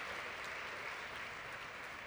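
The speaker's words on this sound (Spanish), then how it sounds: "Dele fuerte el aplauso al Señor." A church congregation applauds in a dense, steady wash of clapping that runs without a break from start to finish, moderately loud and even throughout.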